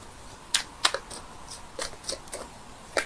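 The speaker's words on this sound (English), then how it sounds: "I'm shuffling the cards here" Tarot cards shuffled by hand in a series of crisp, separate flicks and riffles, close and fairly quiet, with short pauses between bursts and no voices.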